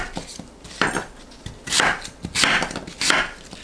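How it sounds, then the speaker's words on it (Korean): An apple being roughly chopped with a knife on a cutting board, about five or six sharp, uneven knocks with crisp cutting crunches between them, close and loud. "사과는 씨 제거하고 큼직하게 대충 썰어주세요."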